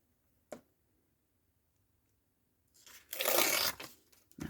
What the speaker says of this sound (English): So I'm just going to tear that across there.